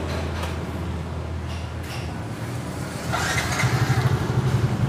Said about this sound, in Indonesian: Di sini motornya masih halus, mesinnya masih halus, namun dia ngebul ya teman-teman.